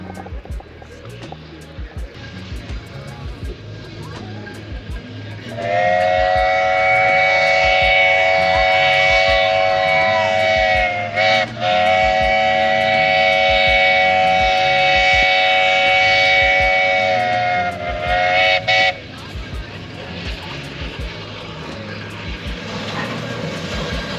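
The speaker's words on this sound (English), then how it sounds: "Here comes the train." Mount Washington Cog Railway coal-powered train in New Hampshire sounds a loud, sustained multi-tone steam whistle for about thirteen seconds, briefly interrupted twice, over steady mechanical rumble and outdoor background noise.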